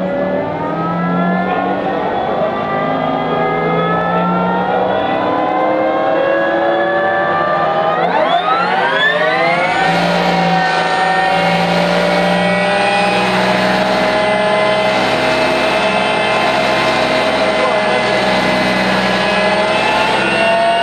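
A Harley-Davidson LiveWire electric motorcycle accelerates toward 90 with a loud, steady electric whine that sweeps upward in pitch, then settles into a high sustained tone.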